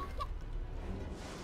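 A chicken in Divinity: Original Sin 2 gives a brief, faint cluck or two against low game ambience.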